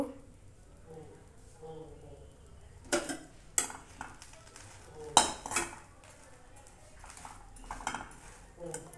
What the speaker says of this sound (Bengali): একটু চেপে এইভাবে একটু সেঁকে নেব সবগুলো রুটিকে